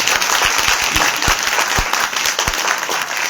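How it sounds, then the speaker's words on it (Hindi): A church congregation at a prayer meeting breaks into applause, dense continuous clapping from many hands filling the room for a few seconds. "ताली बजा के बताइए।"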